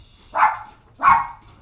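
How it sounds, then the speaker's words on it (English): A dog barks twice, loud and close, with a short pause between the sharp barks and quiet in the background. "the dogs are gonna go crazy for a minute"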